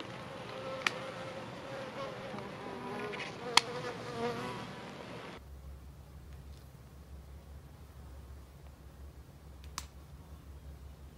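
Swarm of bees buzzing around a branch being dropped into a hive, a soft, steady outdoor drone with a few sharp clicks over it, fainter in the second half.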